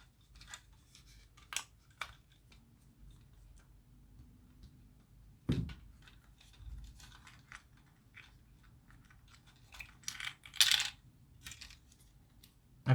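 Small metal screws being unscrewed from a computer mouse, producing faint, sparse clicks and scrapes with occasional sharper ticks, close and quiet with no talking.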